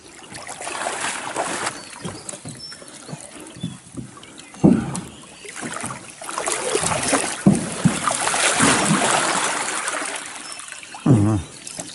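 A traditional Udora lake boat floats on water, with soft splashes, trickles and occasional hollow knocks against the hull under intermittent nearby talk.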